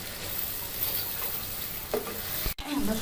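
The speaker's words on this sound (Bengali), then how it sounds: "আবারও নেড়ে ছেড়ে দিব।" Chicken bhuna masala being stirred in a hot pan, a dense steady sizzle with a few scraping strokes of a spoon near the end, close and moderately loud, no talking.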